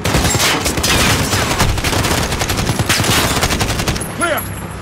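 Dense, sustained bursts of automatic gunfire and rapid shots from the Call of Duty Modern Warfare (2019) video game, loud and continuous for several seconds before easing off, with a brief whooshing effect at the end.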